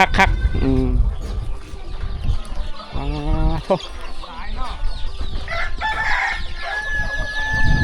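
Barred chickens crow and cluck close by, with a couple of drawn-out crows cutting through busy background clucking and farmyard noise in a Laos village.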